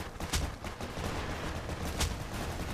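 Gunfire in the video game Ace of Spades, a faint, distant rattle with two sharper bursts standing out amid a muffled, busy background.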